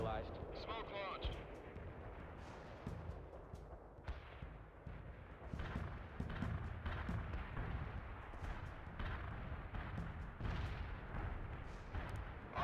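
Heavy artillery barrage in the real-time strategy game World in Conflict, with repeated deep booming impacts and rumbling blasts over a dozen seconds, under radio-style unit voice callouts.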